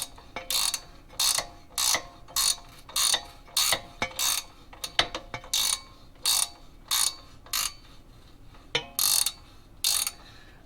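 A ratcheting wrench clicks steadily in short bursts while working on a 2005–2010 Honda Odyssey lower control arm. Rapid metallic pawl ticks repeat about twice a second, close and loud, with a few sharper knocks mixed in.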